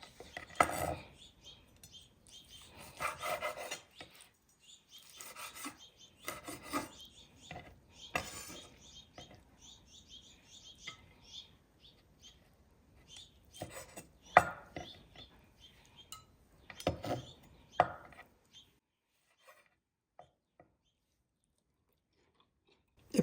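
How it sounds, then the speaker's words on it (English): A steak being cut and trimmed of fat on a cutting board, with bursts of knife and cutlery clatter on the board separated by quiet pauses, close and fairly soft, with no talking. "So we're gonna go ahead and cut up our steak."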